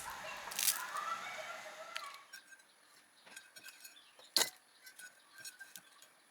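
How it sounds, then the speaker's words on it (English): Rice noodles deep-frying in hot oil until brown, puffy and crispy give off sparse, faint crackles and sharp pops scattered over a soft background, with no one talking. "Flip and fry the rice noodles until brown, puffy and crispy. Listen to that crispiness."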